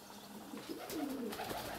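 A courting pigeon gives a soft, low rolling coo, close and clear, rising and falling over a quiet background in a dovecote.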